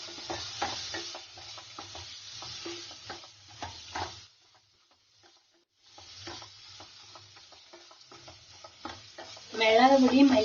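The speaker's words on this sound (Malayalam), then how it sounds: "സിമ്മിൽ വെച്ച് ഇളക്കി കൊടുക്കണം." Chilli, coriander, garam masala and turmeric powders frying together in a pan on low flame while being stirred, quick scraping strokes with a soft sizzle, a pause, then more stirring.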